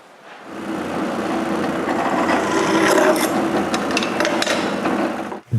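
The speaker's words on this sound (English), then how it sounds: "I need to drill new holes." A drill bores new holes in 1/2-inch plywood, a steady loud grinding whir running for about five seconds before stopping abruptly.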